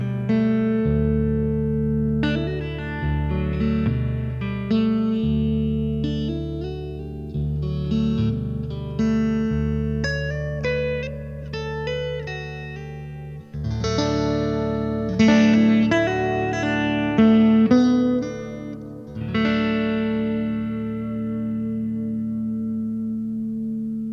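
A twangy, slightly gritty resonator guitar through a Supro tube amp plays a melodic passage of plucked notes and slides, ringing with a bit of echo, with no talking.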